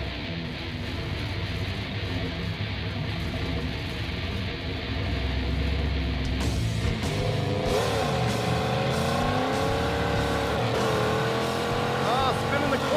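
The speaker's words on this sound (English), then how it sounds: "that was spinning the clutch through every gear." A Pontiac Trans Am on a drag strip revs hard with its clutch slipping through every gear, the loud engine note climbing and falling in repeated sweeps after a steady rumbling start.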